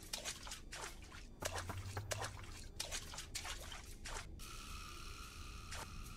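Water dripping and trickling in the video game The Twins, soft scattered drips in a dank, grimy space, faint and close with no talk over them.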